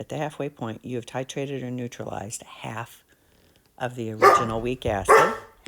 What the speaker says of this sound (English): Sorry about the dog barking there.